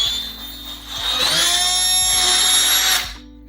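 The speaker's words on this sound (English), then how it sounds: "I'm just going to drill a hole." A power drill bores a hole in wood held in a right angle corner clamp, a steady high-pitched whine that ramps up and holds for about two seconds before stopping, close and loud with no talk.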